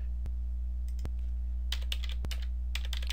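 Sharp keystrokes on a computer keyboard while entering a division calculation, scattered single clicks and short quick bursts of typing over a steady electrical hum, with no speech.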